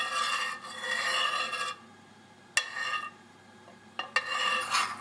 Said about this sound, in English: keep on stirring until the sauce slightly thickens